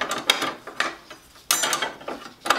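Close ratcheting and rubbing clicks as a wing nut is turned to free the wrenches stored at the back of a Dewalt DWE7485 8-1/4 inch compact table saw, in a few quick, irregular bursts.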